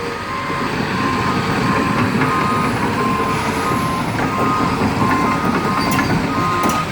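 A truck arriving with a load of planks at a wetland bridge site, a loud, steady close engine rumble with repeated reversing beeps over the top and no talking.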